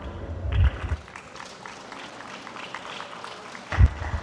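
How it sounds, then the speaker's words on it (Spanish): Audience applause at an arts festival, brief bursts of clapping from a crowd at the start and again near the end, moderately loud with a thin patter between. "Fuerte los aplausos, por favor."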